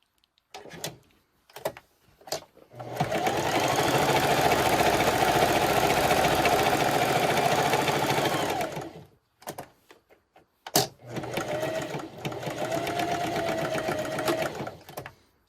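Sewing machine stitching white cotton lace trim around the edge of a farmhouse kitchen dish drying mat, a steady close whirring run of rapid stitching after a few taps, then a pause and a second shorter burst.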